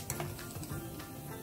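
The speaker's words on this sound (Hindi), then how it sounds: "तेल गरम हो गया है। अब हम इसमें डालेंगे जीरा" Cumin seeds hit hot oil in a pan for gatte ki sabzi, giving a soft, steady sizzle with faint stirring scrapes and a few light clicks of utensils, fairly quiet and close.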